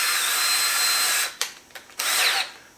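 A power drill spins a Neiko titanium step drill bit, a loud high whine that runs steadily, then cuts out and restarts in short bursts before a final longer run.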